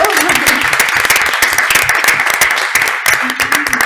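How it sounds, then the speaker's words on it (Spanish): Audience applause for speakers at a women-and-sport gathering, steady dense clapping from a crowd filling the whole stretch, with a few voices faintly underneath. "Que se merecen un aplauso por todo lo que nos han contado."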